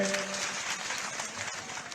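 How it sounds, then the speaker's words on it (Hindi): Crowd clapping at a political rally in Poraiyahat, Godda, a dense, steady wash of applause from a large outdoor audience lasting a couple of seconds. "संजीव मिश्रा जी का भी अभिनंदन करें जोरदार ताली बजा करके।"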